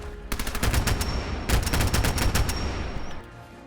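Rapid bursts of gunfire against a legendary Deathclaw in a Fallout game come in two loud volleys with a brief pause between them, then trail off into quieter ambience.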